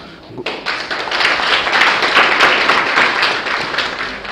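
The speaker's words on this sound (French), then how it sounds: "D'applaudir encore une fois notre très cher conférencier" Sustained applause from an audience for a speaker at a graduates' orientation day, dense clapping starting abruptly and continuing steadily throughout at a fairly loud level.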